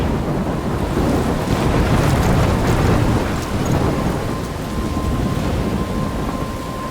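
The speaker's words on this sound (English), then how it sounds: "I'm trapped in a storm?" A thunderstorm in the Life Is Strange video game roars loudly and continuously, with heavy rain, deep rumbling thunder and gusty wind merging into a dense, unbroken wash of noise with no voices.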